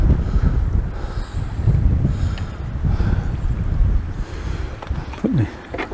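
Wind gusts across a lakeside fishing spot, a steady loud rumble buffeting the microphone with low roaring surges and no speech.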